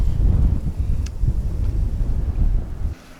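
Strong wind buffets the microphone in loud, gusty rumbles, then drops off abruptly near the end.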